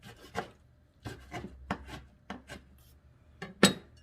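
A knife cuts kimchi into small pieces on a board in a handful of separate strokes, with scraping and rubbing noises between cuts, close by.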